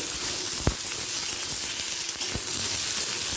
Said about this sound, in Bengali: এর মধ্যে দিয়ে দেব কেটে রাখা আলু